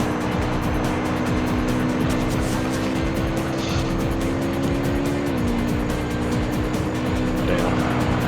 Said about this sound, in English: You're hitting a Spoon VTEC now, holy crap.